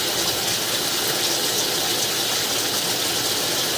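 Water rushes steadily through a home drain line, carrying toilet paper down in a constant, loud gushing flow from start to finish with no voices.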